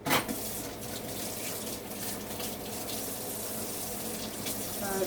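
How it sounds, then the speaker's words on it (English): Hands washed under a running kitchen tap, a steady close splash and gush of water that holds at an even level without a break, with a few faint clatters in the background. "let me just wash my hands"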